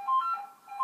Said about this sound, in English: Sorry, the phone's going off.